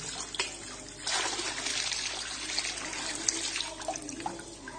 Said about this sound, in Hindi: ये मैंने पानी डाल दिया इस पंप में।